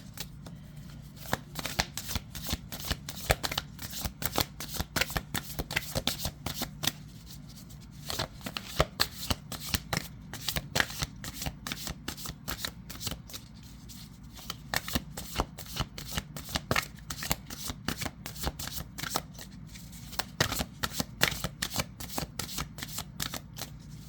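A deck of tarot cards is shuffled by hand over and over, giving rapid, crisp riffling flutters in repeated bursts with short pauses between them.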